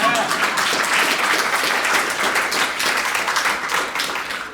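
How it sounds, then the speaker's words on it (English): An audience breaks into applause at a leadership talk, a loud, dense, continuous clatter of many hands that stays close and full before easing slightly at the end. "Yes, sure, we can applaud."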